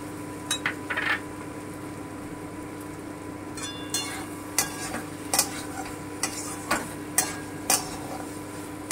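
Grated coconut stir-fried with spices in a pan for a coconut and taro curry, with a steady low sizzle and a run of scraping spatula strokes and clinks against the pan, close by and moderately loud.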